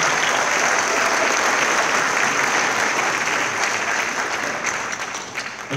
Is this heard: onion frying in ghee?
no